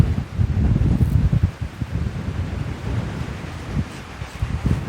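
Strong outdoor wind buffets the microphone in loud, rumbling gusts that swell and ease, with faint rustling underneath and no voices.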